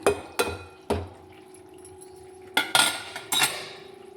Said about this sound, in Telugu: ఇప్పుడు చింతపండు పులుపు వేస్తున్నాను